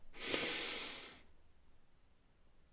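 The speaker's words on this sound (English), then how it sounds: "Take a slow, deep breath in." A single slow, deep breath drawn in, a soft airy hiss that swells then fades after about a second, followed by near silence.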